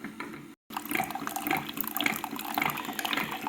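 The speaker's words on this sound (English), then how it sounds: "we want to dispense a couple cups of water" A Keurig 2.0 coffee machine dispenses water in a steady close gushing stream, briefly cut off by a short silence before the flow carries on.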